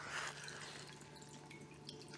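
Water from an old well with leaves and wood debris runs by gravity into a second well, a faint steady trickle and drip with a low hum underneath, distant and without speech.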